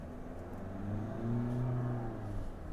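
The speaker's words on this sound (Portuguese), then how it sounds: "Vou esperar aqui passar da lombada só para dar uma aceleradinha de uma forma mais segura." A Foton Tunland V9 pickup accelerates briefly from inside the cab, its engine note rising in a smooth, steady swell of revs and then easing, a close mid-pitched drone with no talking.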